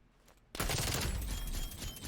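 In a Call of Duty 2v2 Search and Destroy match, a quiet moment breaks suddenly into a loud burst of rapid gunfire. The shooting continues dense and close for about a second and a half, then eases slightly, with no talking.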